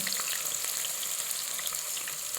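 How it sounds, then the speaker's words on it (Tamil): Onions fry in hot ghee and oil with cinnamon, cloves and cardamom for a vegetable pulao, producing a steady, close, crackling sizzle with no voices. "இப்போ வெங்காயத்தை போட்டுக்கலாம்."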